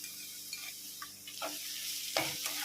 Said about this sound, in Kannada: ಟೊಮೆಟೊ ಸ್ಮ್ಯಾಶ್ ಆಗೋ ಗಂಟ ಫ್ರೈ ಮಾಡ್ಕೊಳ್ಳೋಣ.